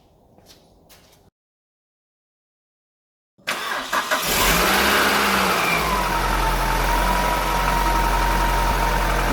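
An Alfa Romeo 145 Twin Spark engine, freshly fitted with a new starter motor, cranks and catches after a quiet pause, then settles into a loud, steady idle close by, with no talking over it.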